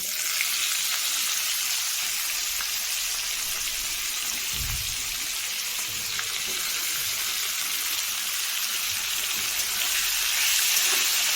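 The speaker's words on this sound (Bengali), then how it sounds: "আমি এই পেঁয়াজটাকে বেশ লাল করে ভাজবো" Chopped onions frying in a pan until well browned, for semolina upma: a steady, close hiss of sizzling oil that runs unbroken throughout, with no voices.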